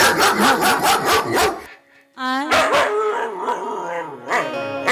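A voice imitating a dog barking: a quick series of loud, rhythmic barks, a short pause, then a drawn-out howl-like yelp and further voiced barking, close and prominent.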